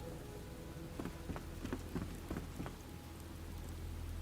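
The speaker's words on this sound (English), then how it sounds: "See how it's raining down through there?" Rain falls in the video game Enshrouded as a faint, steady wash. A short run of soft drop-like taps sits near the middle.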